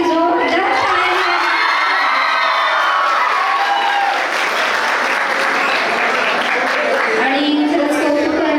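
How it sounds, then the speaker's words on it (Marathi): Loud, sustained applause from a crowd at a nursing college farewell party, honouring the clinical staff, with scattered shouts and cheers mixed into the clapping throughout. "त्यांच्यासाठी जोरदार टाळ्या."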